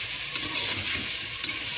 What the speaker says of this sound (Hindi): हम इसमें डालेंगे अपना ये बीफ। लहसुन अदरक में अच्छी तरह भूनेंगे